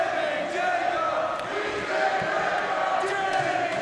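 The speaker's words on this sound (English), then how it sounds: "They're chanting his name." A wrestling crowd at a no-rope barbed wire match chants Jimmy Jacobs' name, a steady rhythmic chant from a large audience filling the arena, with a few sharp claps and thuds scattered through it.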